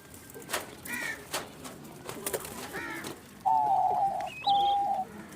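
Diamond doves eating green food in winter, soft cooing calls and a few brighter chirps over faint background rustle, close by, with a couple of louder sustained notes near the end.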